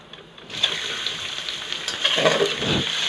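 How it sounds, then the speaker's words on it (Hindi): Chicken goes into a pot of browned onions and sets off a sudden, loud, steady sizzle, followed near the end by a heavier stirring rush, close and without speech. "इस स्टेज पे हम इसमें चिकन को ऐड करेंगे"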